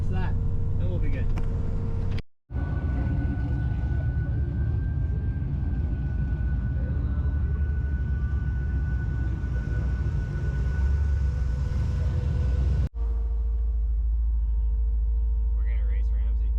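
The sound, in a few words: race car engine revving and shifting gears at test and tune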